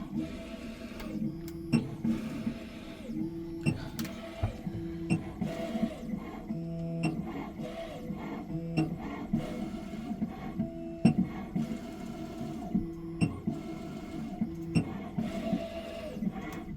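An Autel key cutting machine mills a car key blade for a 2015–2019 Chevrolet Tahoe, giving a quiet, busy mechanical whirring with rhythmic clicks and ticks throughout.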